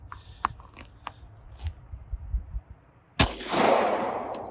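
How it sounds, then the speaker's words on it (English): A single sharp, loud shot from a Mauser C96 pistol fired at a target about 15 yards away on a range, a sudden crack followed by a long decaying ring, preceded by faint handling clicks and rustle. "so I'm shooting at a target that is maybe 15 yards away"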